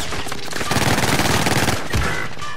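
In Call of Duty Warzone, a loud, fast burst of automatic gunfire rattles in rapid repeated shots, then gives way to a sharp blast near the end. No clear voices are heard.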